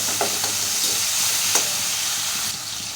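Ragi upma frying and being stirred in a pan, a steady close sizzle with soft scraping strokes of the spoon, no voices.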